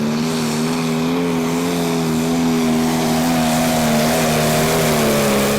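A prostock tractor roars through a full run at a tractor pull in Brande, Denmark, its loud, steady engine note holding strong and close without a break.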